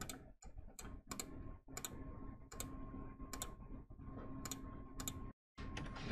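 Keyboard shortcuts being tapped on a computer keyboard, with Ctrl+C, Alt+Tab and Ctrl+V pressed as a series of sharp, close clicks in irregular bursts against a quiet room, one brief silent gap near the end.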